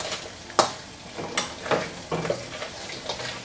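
Crab stir-fried with chili paste in hot oil, with a spatula scraping the pan in a few quick, regularly spaced strokes over a steady soft sizzle.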